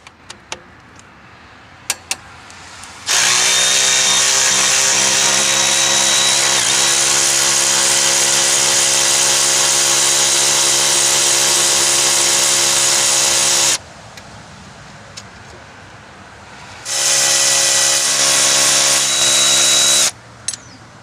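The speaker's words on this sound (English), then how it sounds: "Then remove the nut that holds the AC line clip down using a 13mm socket for removal." A power tool with a 13mm socket runs steadily for about ten seconds, stops, then spins again in a second burst while removing the nut on an AC line clip on a 1993-98 Jeep Grand Cherokee; loud and close with no talk.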